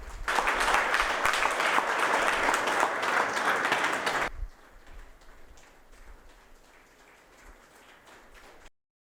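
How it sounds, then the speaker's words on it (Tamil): An audience at a book release applauds in a loud, dense burst for about four seconds, then the clapping drops away to a faint scatter of claps and room noise before cutting off. "உங்கள் பலத்த கரகோஷங்களுக்கிடையே இதை அவரிடம் கொடுக்கிறேன்"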